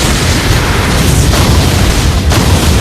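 A loud, continuous rumbling explosion from an animated Beyblade special attack, a sustained roaring blast with a couple of sharper bursts mid-way, filling the whole moment with no talking.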